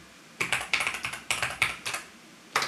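Someone typing on a computer keyboard that is not their usual one, giving sharp close clicks in quick bursts, about a dozen keystrokes with short pauses between groups.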